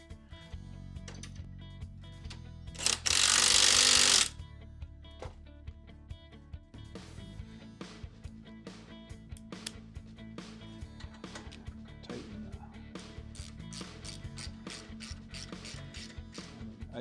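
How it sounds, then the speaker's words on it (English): A ratcheting tool tightens a rod, with repeated quick clicking pawl strokes at close range, a brief loud burst of friction noise early on, and a low mechanical hum underneath. "So now I just need to tighten the rod."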